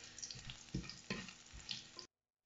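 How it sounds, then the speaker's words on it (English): A clove of garlic sautéing in hot oil with cumin and mustard seeds for samosa filling, giving a steady close sizzle broken by a few stirring scrapes before cutting off abruptly. "I will add 1 clove of garlic to it. I will saute it a little bit."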